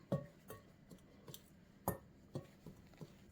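Eggs being stirred into cookie dough for a cheese biscuit, a faint series of irregular clinks and taps from a utensil against a bowl, quiet and close with small gaps between strokes.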